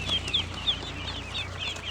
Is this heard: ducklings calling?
yes